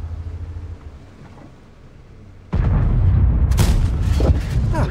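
Tank cannon firing in World of Tanks, a loud booming blast that erupts midway after a quieter stretch of low engine rumble, followed by crackling impact debris and echoing reverberation.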